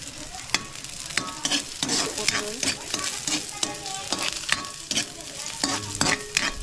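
Onion sizzling in a hot pan while being stirred, crackling fry under repeated scraping and clanking of a utensil against the pan, close and busy with irregular sharp knocks.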